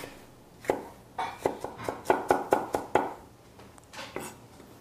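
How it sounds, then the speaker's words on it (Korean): A knife mincing onion on a cutting board for vinaigrette dressing, with a quick run of about a dozen sharp, close chops in an uneven rhythm and a few scattered taps on either side. "비네그레이트 소스에 들어갈 재료를 다져보도록 하겠습니다"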